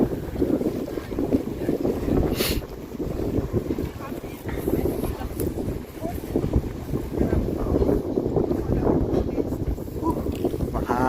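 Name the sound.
strong wind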